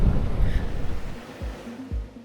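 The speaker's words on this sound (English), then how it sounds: "It's a bit windy." Wind and surf along Tasmania's east coast near a granite lighthouse, a steady roar of gusting air with low rumbling waves breaking at a distance, a few deeper thumps of buffeting against the microphone.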